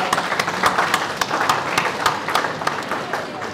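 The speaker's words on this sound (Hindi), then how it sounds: "इनके लिए जोरदार ताली बजा दो" Audience applause at an expert talk on entrepreneurial mindset at CT University: a steady wash of many hands clapping at moderate loudness for several seconds, with sharper individual claps standing out from the crowd.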